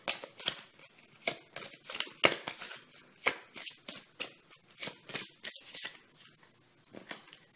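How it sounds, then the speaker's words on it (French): Tarot cards being shuffled by hand, a series of crisp riffling bursts in an uneven rhythm, close and fairly clear, with no talk. "comme vous l'entendez, je suis déjà en train de mélanger les cartes"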